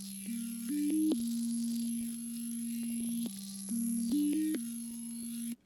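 A Serum synth patch played through Key Freeze in FL Studio, dry with no Shaper Box effect: sustained buzzy tones with stepped pitch changes that repeat in a two-part phrase, heard clearly on their own.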